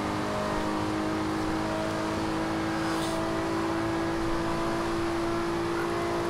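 A 1998 Toyota Supra F&F Edition in Forza Horizon 2 drones loudly and continuously from the interior view as it accelerates, its steady engine tone alone with no talk.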